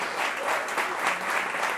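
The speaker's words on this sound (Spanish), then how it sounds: "Aplaude a la gente chilena." An audience claps steadily in a dense, continuous burst of applause, moderately loud and sustained throughout.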